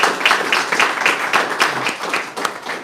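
An audience at a summer camp kickoff event at Gloria Parks gives a round of applause, dense clapping from many hands, loud and steady, with a few louder claps standing out near the end.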